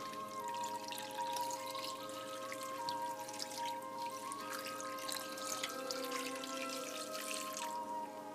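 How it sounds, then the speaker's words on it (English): Filtered water pours steadily into a pot of biwa tea, a continuous close trickle and splash that runs the whole time with no talking. "basically I just keep adding filtered water. I want to get this water all the way to the top on it."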